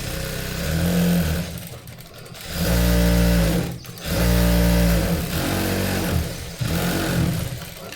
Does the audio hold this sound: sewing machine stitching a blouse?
yes